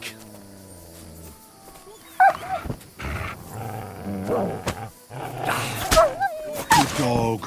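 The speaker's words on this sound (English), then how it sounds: "Good dog, Max." Dog barking in a video game, several sharp barks and growl-like bursts breaking out intermittently over game sounds and speech, fairly loud and close.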